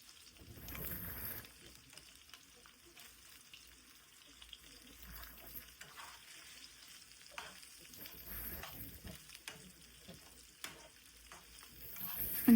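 Tortillas frying in hot oil for chilaquiles give a faint, steady sizzle with soft crackles and occasional stirring clatter, fairly quiet throughout.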